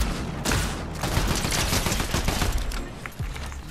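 A purple burst SMG fires in a video game, sounding as dense, rapid gunfire that rattles on continuously and loudly for a few seconds with no voices over it.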